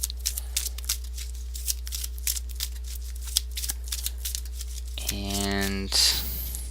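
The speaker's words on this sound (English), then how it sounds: "You shuffle your deck afterwards." A Pokémon trading card deck being shuffled by hand, a run of rapid crisp riffling flicks and taps, followed by a brief burst of voice near the end.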